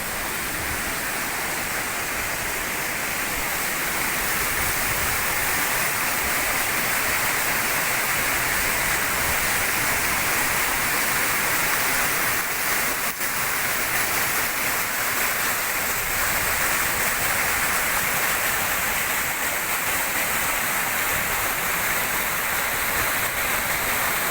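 A small waterfall at the source of the Gediz River roars as a steady, loud, broadband rush of falling water, constant throughout with no voices.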